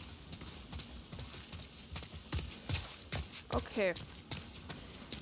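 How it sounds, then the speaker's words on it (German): Horse hooves clip-clop in a steady, fairly close rhythm through The Last of Us Part II, with someone talking briefly over the clatter. "So, ein schöner Gaul."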